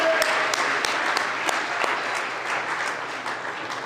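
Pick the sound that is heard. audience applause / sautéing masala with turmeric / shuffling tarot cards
audience applause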